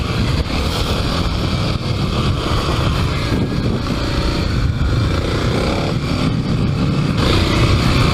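A Kawasaki KLX300 dirt bike fitted with Tusk DSport and Pirelli MT21 tires rides a trail track, its engine droning steadily up close, heavily mixed with wind buffeting across the whole stretch.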